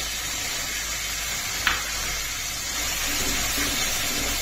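Ground cumin paste fries in hot oil for a Bengali potato curry, a steady close sizzling hiss throughout with one brief sharp tap partway through, and no voices.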